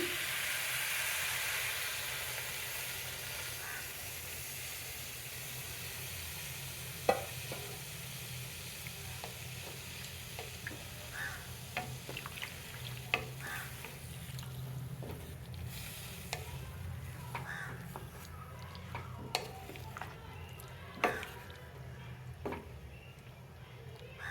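Semolina and papaya laddu mixture stirred in a pan after milk is added, giving a steady sizzling, bubbling hiss with scattered scraping clicks of the spoon throughout, close and fairly even.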